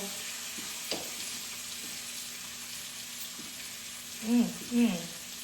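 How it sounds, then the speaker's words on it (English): Lamb chops sizzle in a pan, a soft steady frying hiss throughout, with two brief louder bursts of sputtering near the end as the chops are flipped. "Go ahead, flip them chops."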